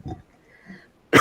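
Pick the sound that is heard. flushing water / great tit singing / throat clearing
throat clearing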